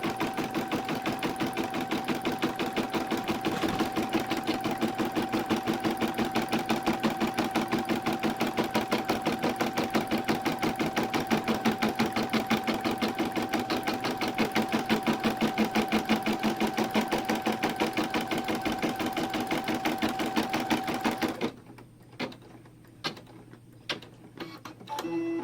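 An embroidery machine stitches fleece laid in the hoop for a four-panel stuffed ball, a loud, rapid, even needle chatter running continuously for over twenty seconds before stopping, followed by scattered clicks and handling sounds.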